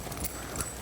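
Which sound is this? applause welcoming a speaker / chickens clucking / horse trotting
horse trotting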